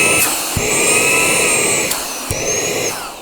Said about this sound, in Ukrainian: в першому потужному режимі пилосос при своїх габаритах і потужності всього-навсього 70 Вт вражає потужністю всмоктування